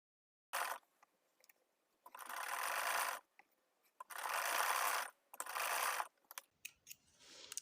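Domestic sewing machine running in several bursts while topstitching along the upper edge of lace, each run lasting about one to one and a half seconds with quiet gaps between, close and fairly loud with no talking.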